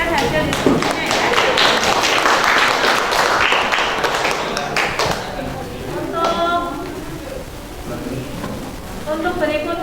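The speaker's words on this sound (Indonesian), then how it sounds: "kita berikan aplaus untuk kelompok 1 yang sudah mempresentasikan hasil diskusinya" Classroom audience clapping for a student group that just finished presenting its discussion results, a broad wash of many hands lasting about five seconds then thinning out as voices talk over it.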